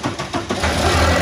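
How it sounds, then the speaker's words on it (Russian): A 2000 Isuzu Rodeo's 2.2-litre X22SI petrol engine starting, a few cranking pulses giving way to a steady, loud close-up running drone with no voices. "Запуск двигателя."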